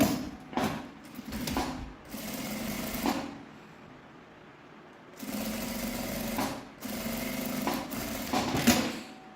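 A sewing machine runs in several bursts of stitching with short pauses between them, sewing the safety seam on the lining of a crossbody bag, close and steady with a mechanical whir.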